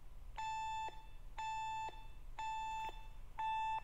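Video game alarm in a Minecraft map, four evenly spaced, steady electronic beeps, each about half a second long with short gaps, loud and clear over a low background hum.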